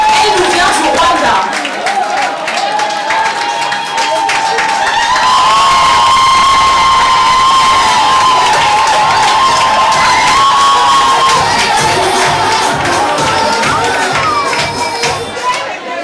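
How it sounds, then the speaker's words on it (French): Loud applause, cheering and whoops erupt from the crowd at a Miss East Africa pageant evening as a candidate is welcomed, dense clapping with shouting voices and a sustained tone over it. "On l'applaudit bien fort, s'il vous plaît."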